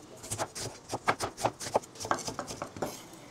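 Seven cloves of garlic are finely chopped with a knife on a board, giving rapid, steady close knocks in a quick even rhythm with no talk.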